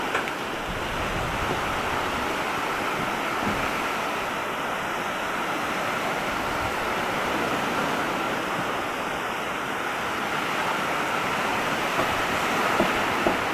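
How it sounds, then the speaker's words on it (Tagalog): Large sea waves after a typhoon crash and wash steadily against a damaged shore, a dense, unbroken roar of surf with no voices. "Malaking mga alon."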